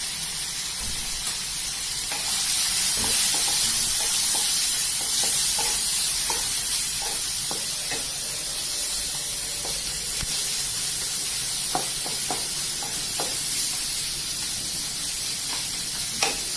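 Chopped onions and tomatoes sizzle in a pan while being cooked, a steady hiss under light stirring and scattered crackles and taps of a spoon, close and continuous with no talking.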